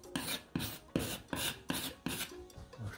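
A putty knife spreads another coat of wall filler across a wall in steady repeated scraping strokes, about seven close rasping passes in an even rhythm, with no voices.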